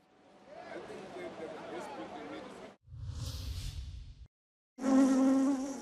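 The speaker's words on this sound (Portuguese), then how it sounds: "5 milhões de abelhas escaparam de um caminhão quando este sofreu um acidente e as colmeias caíram" Five million bees pour out of hives spilled when a truck crashed, their dense insect buzz droning loudly in bursts, broken by a short gap and a closer, louder final burst.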